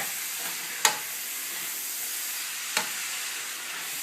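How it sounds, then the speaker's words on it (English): Stir-fry tossed with tongs in a hot pan, giving a steady broad sizzle throughout with two sharp clinks of the tongs against the pan, nearby and alone without talk. "I like using these tongs when I'm making these stir-fry because it's just easier to just stir everything around."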